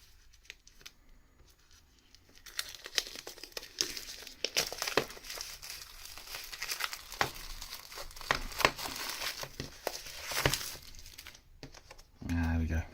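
Paper packaging crinkles and rustles while a Detective Pikachu item is unboxed, with irregular crackles building and fading over several seconds, fairly quiet, and a person speaking briefly near the end.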